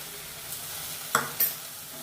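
An onion and gram flour mixture is stirred in a pan for Rajasthani onion paratha. Faint low sizzle is broken by two sharp close scrapes of the utensil, with no voices.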